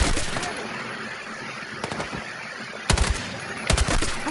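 Battlefield 6 campaign combat gunfire: a few sharp, close shots and short bursts punctuate a steady background hiss and rumble of distant battle noise, with the loudest cracks clustered near the end.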